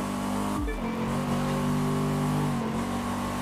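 Cadillac Coupe Deville in The Crew 2 racing, its engine droning steadily with a low rumbling tone that dips briefly as the revs drop and shift, then holds a constant mid-pitched hum.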